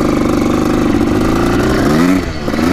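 Yamaha YZ 490 motorcycle running rich, its engine revving hard and loud up close, a steady raspy drone that dips briefly and climbs again near the end.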